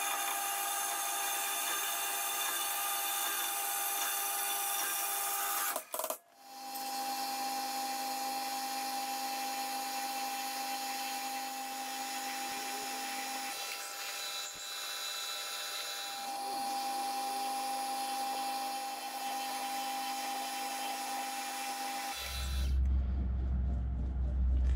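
A power tool cuts through a piece of steel angle for a DIY oil skimmer, a long steady high-pitched grinding whine with a brief pause, then ending with a low rumble.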